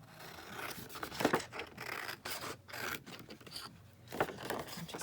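Scissors cut down a misprinted sheet of paper, giving close, soft snipping and rustling scrapes in uneven bursts with brief pauses.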